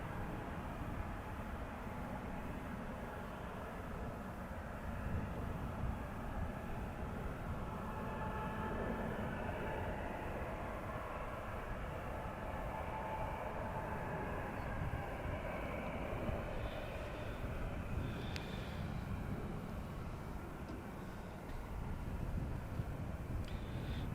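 A Canadian North airplane climbs away after takeoff on an early morning departure, its engine roar a steady, broad rumble that holds evenly throughout at a moderate distance, with no talk over it.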